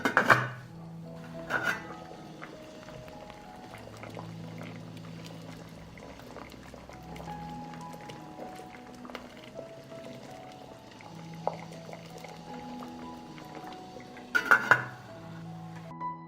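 Water with onion skins simmers in a lidded pan on a stove, a steady low bubbling murmur throughout, with a couple of brief louder clinks or clatters near the start and end.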